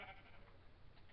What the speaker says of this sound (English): There's a sheep in my house now.